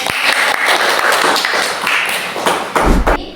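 An audience claps loudly and steadily for a few seconds at a digital microteaching presentation on Indonesian folk tales, a dense, continuous patter that thins and ends with a few scattered claps and thumps.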